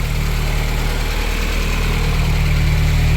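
A Porsche 924 Turbo engine idles steadily and healthily with a deep, even rumble and constant low vibration throughout.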